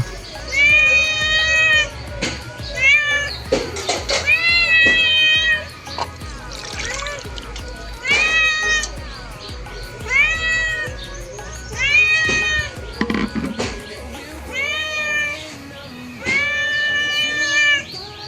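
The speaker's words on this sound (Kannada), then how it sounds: "ಮನೆಗೆ ಬಂದು ನೋಡಿದರೆ ಬೆಕ್ಕು ಭಾಳ ಶಬ್ದ ಮಾಡ್ತೈತೆ." A house cat meows loudly and repeatedly in drawn-out, insistent cries, close by, with short pauses between calls and faint background noise.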